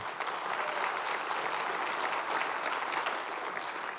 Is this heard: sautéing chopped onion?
no